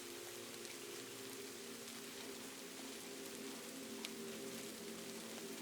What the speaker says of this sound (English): The sound of rain on an old Japanese roof.